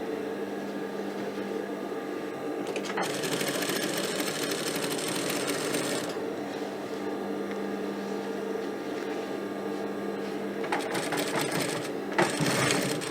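A sewing machine stitches the crotch seam of a pair of trousers, running with a steady close whirring hum in long bursts that speed up and ease off, with no talking.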